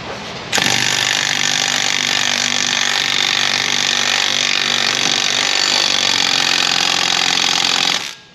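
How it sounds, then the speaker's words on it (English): A 3/8 impact gun drives a lug nut onto a Jeep Wrangler wheel during a broken wheel stud repair, one loud, continuous hammering whir lasting about seven and a half seconds before cutting off. "Let's see if the 3/8 gun is going to do it."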